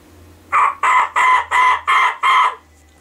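Six quick, raspy yelps from a turkey mouth call held too loosely against the roof of the mouth, in an even rhythm, close and loud, with a harsh buzzy tone that sounds slightly off.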